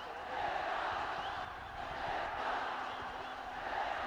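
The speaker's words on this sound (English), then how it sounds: "And listen to this chant, Nepal, Nepal." Cricket crowd at a Nepal versus West Indies A match chanting "Nepal, Nepal", a broad roar of many voices rising and falling steadily, heard from a distance under a commentator's voice.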